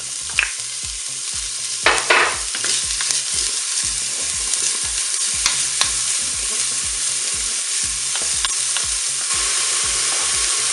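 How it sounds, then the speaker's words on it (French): Bacon lardons fry in a preheated Cookeo multicooker with a steady loud sizzle, while a regular mechanical stirring pulse repeats underneath and occasional scrapes and pops cut through, with no one talking. "On va pouvoir commencer à mettre les lardons."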